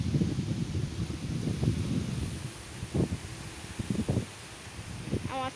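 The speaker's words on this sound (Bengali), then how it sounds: "এতটা পরিমাণে হাওয়া হচ্ছে।" Strong wind gusts through garden plants, including marigolds, producing a steady broadband rush and leaf rustle with louder surges, close to the microphone and buffeting it at times.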